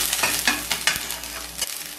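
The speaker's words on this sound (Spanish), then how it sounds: "voy a poner a freír la cebolla picada" Chopped onion fries in a pan, a close, dense sizzle with stirring scrapes and small crackles over two seconds, no voices.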